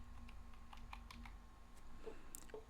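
Scattered light clicks of someone typing a password on a computer keyboard, close and fairly quiet, in short irregular bursts over a faint hum.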